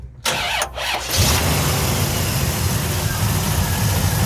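A 1974 Chevrolet El Camino 350 V8 with a mild cam cranks briefly and catches, then settles into a steady, deep rumbling idle that continues close by.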